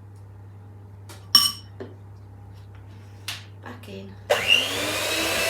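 An electric mixer whirs loudly into life near the end, blending peanut butter cookie dough with vanilla extract, after a few clinks of utensils and a short spoken phrase.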